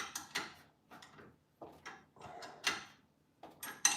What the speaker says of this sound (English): I'm gonna just use the wrench.